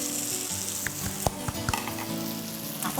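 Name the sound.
onions sizzling while frying Kapampangan pork sisig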